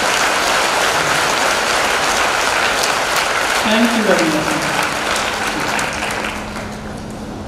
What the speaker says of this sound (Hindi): आपके लिए तालियां बज रही है